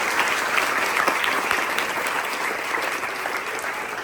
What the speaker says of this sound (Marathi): मुलांना सरांसाठी जोरदार टाळ्या वाजवा